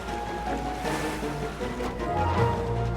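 Heavy gushing water roars steadily like a large waterfall in an animated fantasy film, a continuous loud wash with a low rumble and no one speaking.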